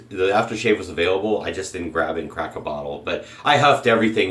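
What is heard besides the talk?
None of the usual background noises is heard.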